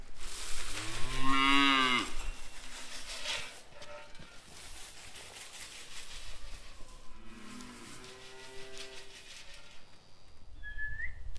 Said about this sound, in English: then we'll get to bringing the cows in.